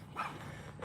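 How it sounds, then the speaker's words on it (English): A beagle dog barking outdoors near a fence, two quick, fairly faint yaps within a second, with no talking. "Oh, look at the little beagle here come to see us."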